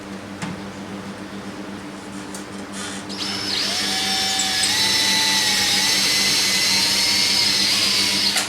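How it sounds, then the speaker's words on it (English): A drill spins up and bores a small pilot hole in a shop, a loud steady whine with rising pitch that holds for several seconds after a few brief clicks. "I'm going to drill a small pilot hole first"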